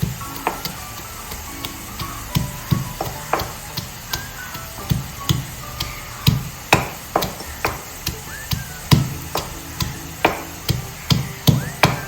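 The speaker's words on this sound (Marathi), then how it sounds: "लसूण एकदम त्याची पेस्ट करायची नाही एक हलका हात नॉर्मल त्याला ठेचायचं आहे" Garlic cloves are crushed for a garlic chicken dish, heard as a steady run of sharp pounding thuds, roughly two per second, close and fairly loud. A faint sizzle sits underneath and no one speaks.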